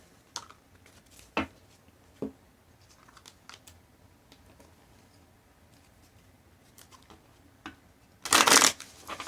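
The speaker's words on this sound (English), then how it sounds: "I just do the shuffling" Tarot or oracle cards are shuffled for a reading, with soft scattered taps and riffles spread across a quiet room, ending in a louder burst of rapid card riffling near the close.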